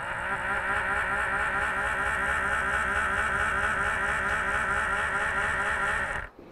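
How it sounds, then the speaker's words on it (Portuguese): A small DC motor driven by an Arduino through PWM at reduced power runs with a steady, continuous whine and buzz throughout, loud and close, then cuts off abruptly near the end. "Vocês podem notar que o motor ele gira com menos intensidade."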